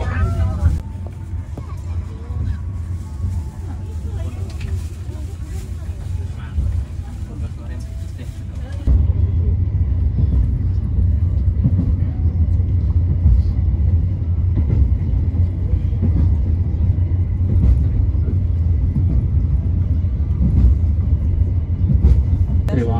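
An Indonesian economy-class train on the Surabaya–Jakarta run rolling into a station onto platform 4: a steady low rumble heard from inside that grows noticeably louder and heavier partway through, with a voice talking over it.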